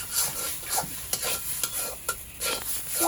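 A spatula stirring and scraping banana peel bhorta as it fries in a pan, rhythmic scrapes and taps over a soft continuous sizzle, close and clear.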